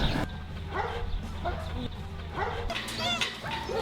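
Shelter dogs yip and whimper in short bursts at moderate distance, with a voice talking over them.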